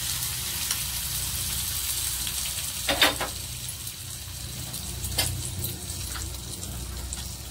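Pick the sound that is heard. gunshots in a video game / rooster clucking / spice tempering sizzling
spice tempering sizzling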